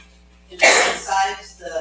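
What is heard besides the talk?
sneeze in council meeting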